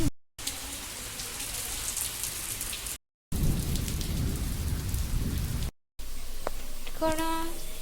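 Heavy rain pours steadily onto a rooftop in a rural home, with gusting wind and low thunder rumbling beneath it, broken by two short gaps; near the end a faint tonal harmonic sound rises over the downpour.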